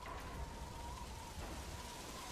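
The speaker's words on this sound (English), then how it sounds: "Now it's started to rain." Rain falls in the video game Metal Gear Solid V: The Phantom Pain, a soft, steady hiss of drops heard faintly and evenly throughout.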